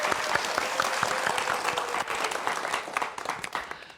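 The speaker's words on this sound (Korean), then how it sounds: "손승호 교수님의 강연 박수 부탁드립니다" A lecture audience gives sustained, dense applause for a physics professor's talk, steady and close throughout before thinning and fading toward the end, with no voices over it.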